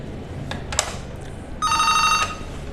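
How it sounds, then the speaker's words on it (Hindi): An EPABX telephone hotline set-up plays its bounce-back bell after a code is activated: a few handset clicks, then a single short, bright electronic ring burst lasting about half a second. "वापस बाउंस बैक बेल आ रही है"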